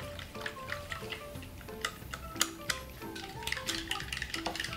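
A spoon stirring a tablespoon of flour into half a cup of bottled water, giving soft, irregular clinks and scrapes against a bowl that run continuously at low volume.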